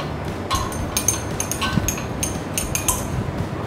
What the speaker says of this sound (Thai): ค่อยๆ คนให้เข้ากันนะคะ ตัวนี้แนะนำให้คนเบาๆนะคะ